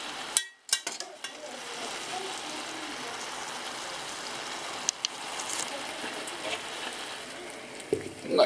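Porcini mushrooms fry in a pan with a steady, soft sizzle like light rain, broken by a sharp clatter near the start and a few knocks later on.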